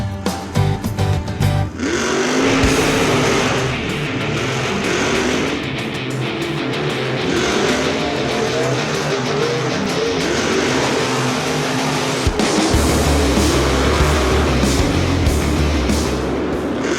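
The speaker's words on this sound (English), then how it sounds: "He is the driver of the zombie truck that's behind us here at Monster Jam." Monster truck engines roar at a Monster Jam event in St. Louis, a loud, sustained mechanical drone with rising and falling revs that runs continuously, briefly choppy at the start and surging again near the end.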